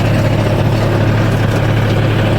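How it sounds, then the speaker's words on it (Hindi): A tractor engine runs in a loud, steady, low rumble close by, with no talk over it. "विशाल पहले भाई यहाँ पे बैलगाड़ी हुआ करती थी, अब लेकिन ट्रैक्टर है भाई"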